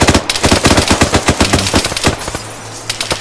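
Gunshots in the Arma 3 military video game ring out as a rapid, rhythmic string of loud automatic bursts, close and steady, with a few single cracks near the end and no talking.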